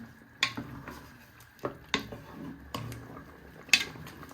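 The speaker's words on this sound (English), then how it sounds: "You give that one final stir." A spoon stirring paella in a metal pan gives about six sharp scraping clinks spaced unevenly over a few seconds, close and fairly quiet, with a faint sizzle underneath.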